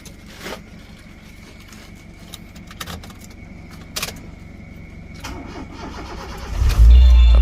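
A Honda Jazz cranking and firing up after a key and remote repair, with keys jingling and faint clicks before the engine catches and settles into a loud, close idle.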